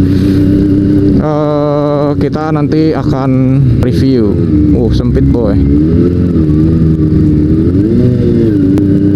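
A modified Kawasaki ZX25R motorcycle with full carbon parts revs its engine on a test ride, the pitch climbing and falling in repeated surges under someone talking throughout.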